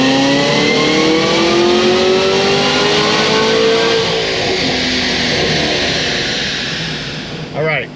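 Stage 4 Cadillac CTS-V engine revving hard on a dyno, a loud sustained climbing pull with rising harmonics that holds high then eases off, ending with a short blip.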